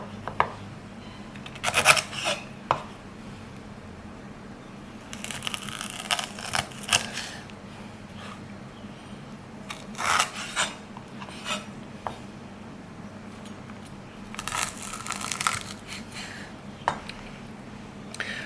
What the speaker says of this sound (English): using the tip of this knife, cut through the center, right down the center here.